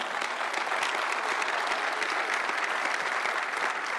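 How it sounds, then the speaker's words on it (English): Steady round of audience applause at a university press conference introducing a new head basketball coach, a dense wash of many hands clapping at a moderate, even level throughout. "Please join me once again to give Colleen another round of applause for her leadership."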